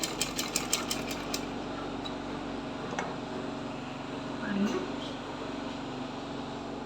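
A sewing machine runs in a steady, continuous whirr while stitching a folded round edge on a baby frock, with a few sharp ticks at the start and a faint voice murmuring underneath.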